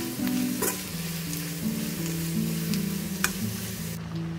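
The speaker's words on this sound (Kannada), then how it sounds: "ಇದನ್ನು ಸಣ್ಣ ಉರಿಯಲ್ಲಿ 3-4 ನಿಮಿಷ ಬೇಕಾಗ್ತದೆ ಇದಿಷ್ಟು ಫ್ರೈ ಆಗಲಿಕ್ಕೆ" Onion and breadfruit stir-frying in a pan over a low flame, a close, steady sizzle broken by scraping and stirring clatter from a utensil, with no voices.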